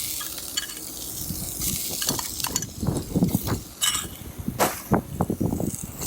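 Red onion sizzles in a little olive oil in a pan, a steady frying hiss with the clink and scrape of stirring up close, rising as the pieces are moved around.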